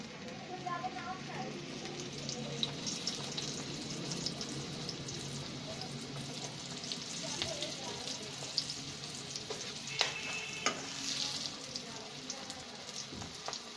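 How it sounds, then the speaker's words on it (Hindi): Chicken strips frying in hot oil, a dense steady bubbling crackle with sharper pops throughout, heard close up beneath intermittent quiet background voices. "अब इसको भी हम फ्राई करेंगे।"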